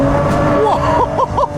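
A BMW E46 M3 Touring driven hard while drifting, loud close engine roar with rising and falling revs and repeated quick gear-change blips toward the end.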